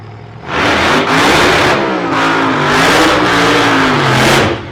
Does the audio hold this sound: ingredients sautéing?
no